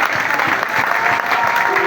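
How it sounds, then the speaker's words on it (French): Applause at a political rally in Kinshasa, a brief steady wash of many hands clapping with crowd noise underneath. "Applaudissez pour vous-même."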